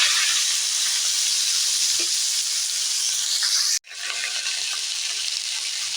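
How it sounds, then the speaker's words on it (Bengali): Loud, dense sizzling of Malabar spinach and potato frying in hot oil in a wok, continuous and close, briefly cut off for an instant before the hiss resumes just as strongly. "আমি তেল দিয়ে দিলাম পুঁই শাক আর আলুটা আমি দিয়ে দিলাম কড়ার উপরে"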